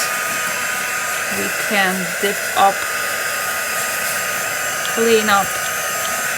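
A hair dryer blows to dry paint on a handmade laced junk journal, a steady, fairly loud whir running throughout while a person talks briefly over it.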